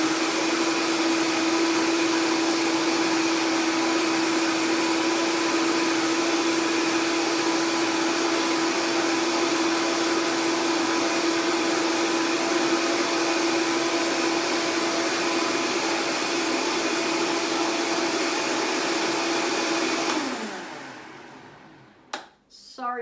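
A kitchen blender runs loud and steady for about twenty seconds, blending three cups of water with a cup of nuts into nut milk, with a constant whine and roar before the motor cuts off and winds down.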